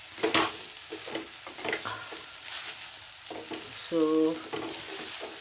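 Spinach (keerai) frying in a pan is stirred, giving a soft sizzle with intermittent scraping strokes, while a voice speaks briefly over it.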